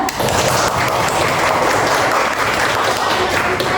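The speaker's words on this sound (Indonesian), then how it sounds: "Ustazah minta kasih applause dulu buat Mbak Dira." Students in a classroom giving applause for a classmate, a steady burst of clapping from many hands, close and fairly loud throughout.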